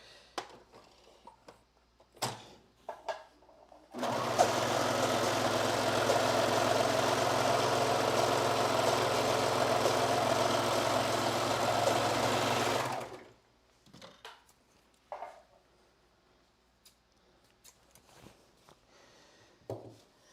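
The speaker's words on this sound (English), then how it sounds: "Now I'm gonna make sure that my knife is turned off on my serger." A serger overlocker, its knife turned off, stitches the seam allowance of a muslin in one steady, loud whirring run of about nine seconds. Quiet clicks and fabric handling come before and after.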